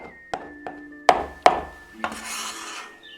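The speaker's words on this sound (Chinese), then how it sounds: "再准备一点香干，这样吃起来会更有嚼头，把它剁成末。" A knife minces dried tofu on a cutting board in about five sharp, irregular strikes, close and crisp, with a faint scraping between them.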